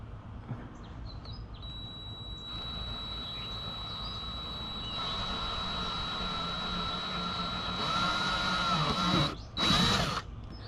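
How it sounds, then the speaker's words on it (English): A power drill whines steadily at close range drilling a pilot hole for a Hobie Outback kayak anchor trolley, its pitch rising under load, then stops and briefly revs again, with faint birdsong outside. "go ahead and drill our second pilot hole."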